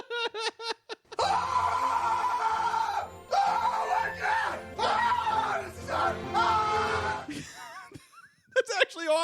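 A man screams loudly and almost without pause for several seconds in a recording, his raw, strained voice rising and breaking, with brief talk just before and after.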